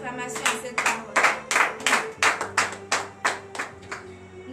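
A church congregation at morning prayer claps in a steady rhythm, about a dozen firm, evenly spaced beats, with a low hum sustained underneath.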